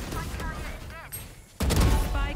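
Gunfire in the tactical shooter Valorant: rapid bursts of shots and impacts, loud and close, ending in a sudden dense barrage, mixed with game sound effects.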